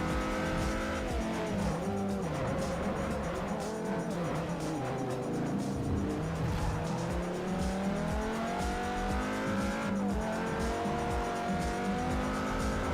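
Lamborghini engine in the racing game Forza Motorsport 4, a loud continuous race-car drone with rising and falling revs, shifting pitch through gear changes and tire squeal, steady and close throughout with no talking.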